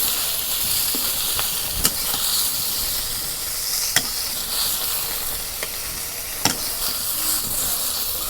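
Pangas fish fries in a pan over a clay stove, giving a steady, loud sizzle and hiss with occasional sharp clinks from a utensil against the pan.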